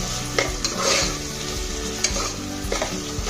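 Tomatoes fry and are stirred in a pot for vegetable biryani, giving a steady close sizzle broken by several sharp scrapes and clinks of the spoon against the metal.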